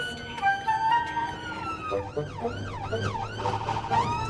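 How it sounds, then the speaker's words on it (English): An ambulance siren sweeps up and down in repeated wails as the vehicle passes nearby, loud and continuous over a low engine rumble. "An ambulance going past an ambulance."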